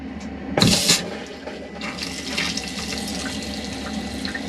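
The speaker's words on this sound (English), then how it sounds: "hand basin tap, and that water's lovely and warm there" A hand basin tap in a caravan runs steadily, warm water splashing into the basin, with a brief louder gush near the start before settling into an even flow.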